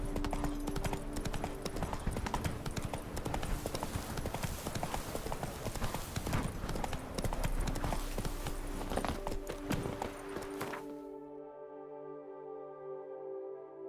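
Roach the horse gallops in The Witcher 3: Blood and Wine, steady rapid hoofbeats pounding close and loud over ambient game sound, then fading into quiet music near the end.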